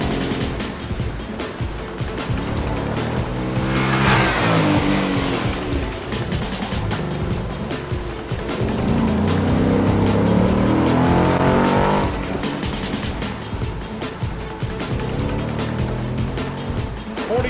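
A race car at the Carlisle Ford Nationals real street shootout runs a fun lap, its engine roaring steadily and swelling loud as it passes twice, with tire noise and a constant crowd-like wash behind it.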